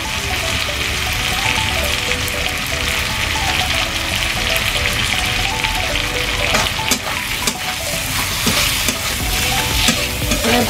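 Prawns frying in a hot pan, a loud continuous sizzle with crackling spatters and repeated stirring scrapes, close and without any voices.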